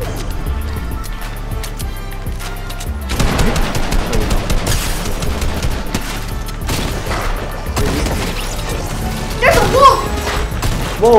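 Rapid gunfire in Fortnite, with dense bursts of automatic shots and sharp cracks coming loud and close in clusters, while voices talk over parts of it.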